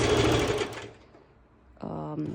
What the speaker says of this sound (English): you can do it with your zigzag stitch on your normal sew machine